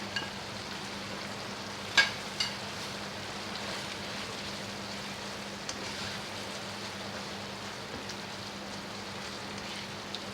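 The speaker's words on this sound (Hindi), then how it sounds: "ये हमारी जाएंगे सारी चिल्ली सॉस। हाँ, इसको अब डाल के हम भून लेंगे।" Beef chilli frying in a pan with chilli sauce and garam masala, giving a steady, even sizzle with a couple of sharp clinks early on and no talk.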